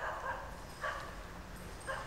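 A dog barks and yips a few times at another dog, sharp but fairly faint outdoor calls standing out over a low background hum.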